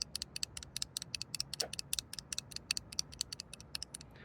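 A magnetic mechanism with a 0.5 mm air gap set down again and again, giving a rapid string of sharp, crisp clicks that repeat irregularly in quick succession, close and clear.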